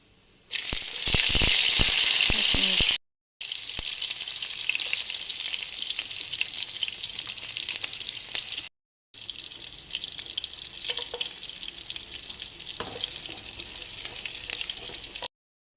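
Mustard seeds and urad dal fry in hot oil for a chitranna tempering with dry and green chillies, giving a loud, steady close-up sizzle broken by two short silent gaps and faint crackles, with no talking.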